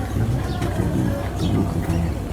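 A champion racing pigeon coos in short, low, throaty bursts close by, with people talking quietly over it.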